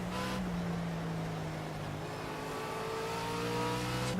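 McLaren race car engines in Project CARS drone and rise in pitch together, a steady layered engine whine heard at moderate loudness with no talk.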